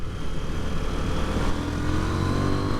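KTM 990 Duke R V-twin engine pulling hard at full throttle, a steady, loud, throbbing exhaust drone with wind rush, heard from the rider's position without pause.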